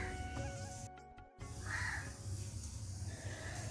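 A crow caws harshly a couple of times, fairly near and moderately loud, over a steady low background hum with a brief dropout.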